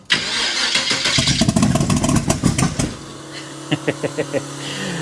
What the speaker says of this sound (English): Cars with carburetors don't like starting.